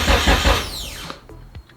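A Mitsubishi Evo 8 engine cranks on a new starter, a loud whirring burst that winds down into a descending squeal, followed by a couple of short clicks and a faint final crank, close up.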